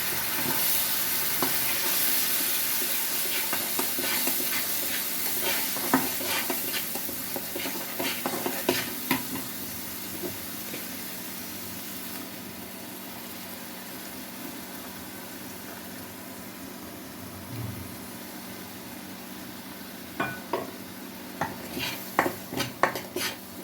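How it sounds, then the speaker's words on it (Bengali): Ginger, garlic and cumin paste sautés in a pan with a steady soft sizzle, with intermittent scraping and clinks of a spoon stirring against the pan, growing busier toward the end. "ভালো করে কষিয়ে নিব।"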